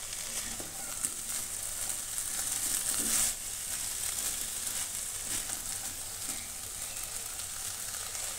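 Cauliflower and potato stir-fried in a pan as their released water cooks off, giving a continuous, moderately loud sizzle with occasional scraping stirs and a brief louder flare of hiss partway through.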